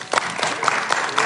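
Audience applause at a brunch panel event, a short burst of scattered clapping with a few sharper individual claps standing out, close and moderately loud.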